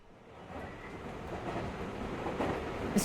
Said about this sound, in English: The train starts moving.